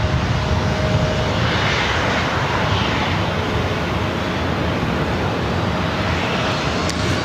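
A jet airliner at LAX airport roars loud and close, a thick, steady engine rumble that holds at full strength for several seconds with no voices.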